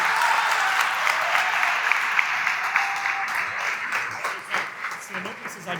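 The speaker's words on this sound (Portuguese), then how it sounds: "Quero convidar aqui que você o receba com uma salva de palmas o ministro Pastor Eduardo Gonçalves" Audience in a church conference hall applauds to welcome a pastor to the stage, a dense, steady wash of clapping that carries on throughout and thins slightly toward the end.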